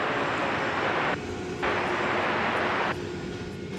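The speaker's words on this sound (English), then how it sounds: "So this plane is got clearance to take off." A passenger airplane rolls down runway 18 Left at DFW Airport for takeoff, its jet engines producing a continuous loud roar that swells and dips slightly as it passes.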